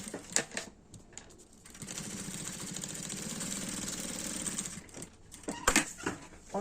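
Sewing machine stitching a decorative seam on a multipurpose fabric case: a steady, fast mechanical whirring run of about three seconds, close and moderately loud, framed by light handling clicks and rustles before and after.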